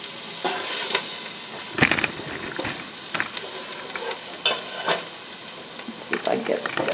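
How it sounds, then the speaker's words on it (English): Chicken curry ingredients sauté in a pan over high heat, a steady loud sizzle with repeated scraping stirs of the utensil throughout, no voices. "Saute for 1 minute over high heat."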